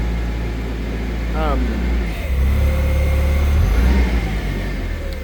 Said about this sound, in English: you always want to give your forklift a little bit of RPM while you're running the hydraulics